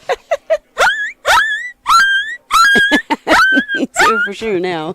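A person imitates a whimpering, yipping puppy with a diaphragm game call, producing a close, loud string of short, high, squeaky yips and rising whines.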